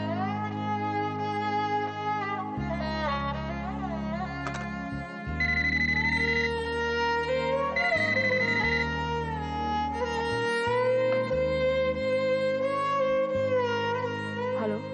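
A melodic electronic ringtone plays loudly and continuously, cycling through a repeating tune with no voices.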